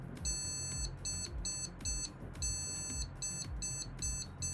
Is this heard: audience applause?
no